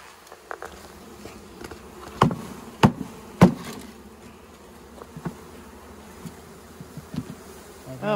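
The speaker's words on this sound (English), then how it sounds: "Dump a bunch of bees out." Roughly four pounds of honeybees are shaken out of their package into a hive box, making a steady, close swarm buzz broken by several sharp knocks and thumps of the box.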